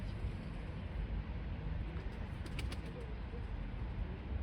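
A loft of Turkish racing pigeons bred in-house coos in a dense, continuous low murmur throughout, with a few brief flutters and faint background noise, nearby and fairly quiet.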